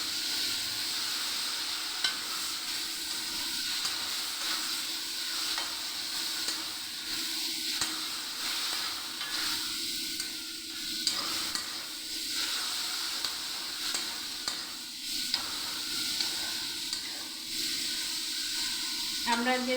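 Bottle gourd peel frying with spices after a splash of water, a continuous hiss and sizzle with soft stirring scrapes, a voice talking faintly underneath.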